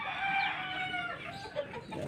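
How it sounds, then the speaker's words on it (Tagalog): A large chicken clucks and calls in short, bright vocal bursts up close, with faint farmyard background and no speech. "isa namin manok na malaki"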